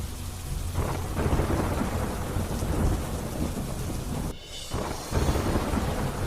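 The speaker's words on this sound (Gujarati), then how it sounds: "પાટણમાં ધોધમાર વરસાદથી કપિલા નદી રૌદ્ર સ્વરૂપે વહેતી થઈ" Heavy rain pours steadily with deep rumbling thunder rolling underneath, a brief lull near the end before the downpour surges back.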